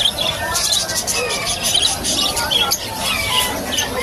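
Birds squawk and screech continuously at a busy pet market in Malabon, a dense layer of shrill calls over steady crowd murmur and background noise.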